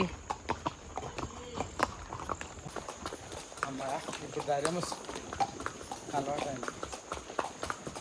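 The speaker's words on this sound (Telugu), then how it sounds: "నా గుర్రం చూడు తెల్లగా ఉంది మంచిగా" Horse hooves clip-clop steadily on a horse ride through the hill town of Matheran, a close, regular beat running under continuous conversation.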